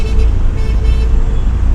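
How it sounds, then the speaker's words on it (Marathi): Road traffic jam on a Kokan road trip near the Kashedi tunnel in Ratnagiri: a loud, dense rumble of idling and crawling vehicles close by, with faint intermittent horn toots mixed into the steady traffic noise. "ही बघा ही मस्तपैकी ट्रॅफिक लागलेली आहे"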